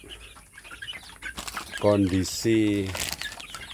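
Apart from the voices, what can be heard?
chickens clucking after feeding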